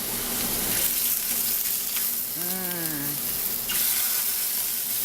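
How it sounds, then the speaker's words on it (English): Shrimp cooking in a pan with a steady, moderate sizzle, broken midway by a brief squeaky tonal whine. "we're going to cook the shrimp first"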